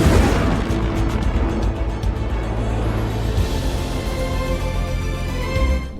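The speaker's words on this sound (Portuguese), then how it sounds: "Hiro então pula junto com Baymax, que ativa seus propulsores a jato." Baymax's jet thrusters firing in Big Hero 6 make a loud, dense roaring rush with a low rumble that holds steady throughout, crackling with bursts like blasts.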